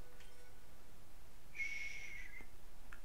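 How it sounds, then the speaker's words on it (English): Brief whistled bird call in Skyward Sword HD, a single clear sustained chirp over a faint ambient bed, fairly quiet and alone, with a couple of tiny ticks around it. "We need a bird feather, so we're gonna sneak up on these birds"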